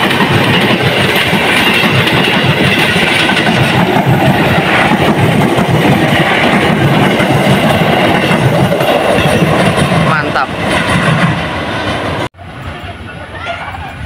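A train passes the rail switch at Depok, Indonesia, in a loud, close, continuous rumble with rattling wheels over the points, until the sound cuts off abruptly near the end.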